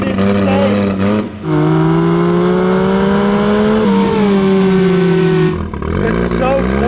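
A car fitted with both a turbocharger and a supercharger revs hard on a street, engine pitch climbing and holding in strong sustained tones, broken by brief drops where the throttle lifts and the blow-off valve releases, with a voice speaking nearby.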